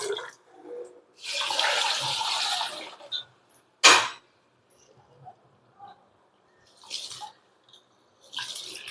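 Ration rice being washed by hand in water, with a long sloshing swish, a sharp splash or pour near the middle, and a few quieter stirring swishes later, close and without talk.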